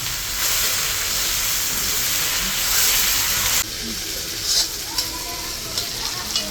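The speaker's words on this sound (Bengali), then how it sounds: "কেটে রাখা শাপলাটা তেলে দিয়ে দিলাম। তেলে দিয়ে দিলাম। কাঁচা লঙ্কা দিলাম।" Cut water lily stems and green chillies fry in hot oil with a loud, steady sizzle. The hiss drops a little partway through, and a few clinks of stirring come near the end.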